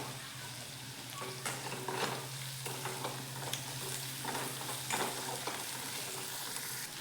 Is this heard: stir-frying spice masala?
yes